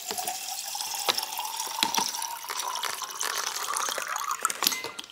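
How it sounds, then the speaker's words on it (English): Water from a kitchen tap runs steadily into a reusable metal water flask, a continuous close splashing rush with small clinks and drips throughout, no voices. "I'm gonna fill up my bottle."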